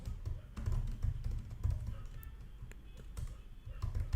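Typing on a computer keyboard while coding, close and fairly loud, with clustered key taps in uneven bursts over a low background hum.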